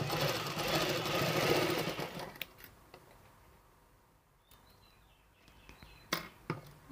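A sewing machine stitches pleats into a cloth face mask, whirring loudly and steadily up close for about two seconds before stopping, followed by quiet handling clicks and light taps.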